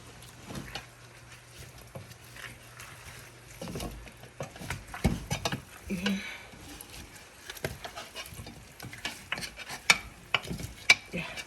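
Stewed beef is stirred in a pot with scattered scraping and clinking knocks of the spoon, soft at first then busier and louder, with faint sizzling beneath.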